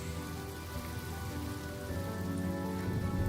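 Steady rain falls in the video game Honkai Star Rail, a soft, continuous patter that swells slightly toward the end, with no voices.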